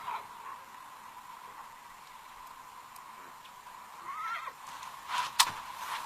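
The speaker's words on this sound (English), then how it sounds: "Seize the horses." Horses neighing faintly in a historical drama scene set at a Dutch colonial outpost, a whinny rising near the end over a low steady background hum.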